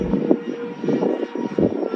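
A Freewing Hornet RC jet model flies overhead, its electric ducted-fan engine giving a fluctuating, whooshing whine that swells and fades as it passes, moderately loud with no voices.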